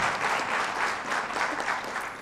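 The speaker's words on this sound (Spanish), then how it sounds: "Un fuerte aplauso para él, por favor" A conference audience applauding, a dense, steady wash of many hands clapping at moderate loudness, continuous throughout with no voices over it.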